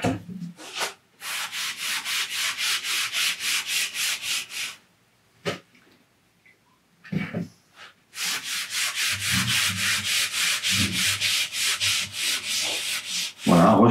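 Cotton wick rubbed over painted wood along the grain in decorative two-tone paint work, giving repeated rhythmic brisk scrubbing strokes in long bursts with short pauses between passes, close and fairly loud.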